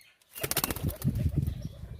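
Pigeons burst out of their coop after a brief silence, a loud close flurry of flapping wings that goes on in uneven beats, with faint cooing underneath.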